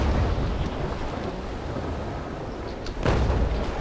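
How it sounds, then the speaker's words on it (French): Rain and rolling thunder during a naval battle in the Naval Action sailing ship game, a steady broadband wash of rainfall with a louder thunder rumble swelling near the end, no voices. "Alors qu'il se met à pleuvoir."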